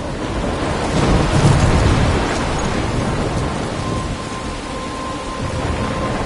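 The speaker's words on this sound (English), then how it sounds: "I'm trapped in a storm?" Thunderstorm in a video game: heavy steady rain hisses throughout while a deep rumble of thunder rolls loudly in the first seconds and then fades.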